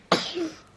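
A single sharp sneeze bursts out close to the microphone with a quick explosive onset. A brief vocal tail follows and fades into near silence.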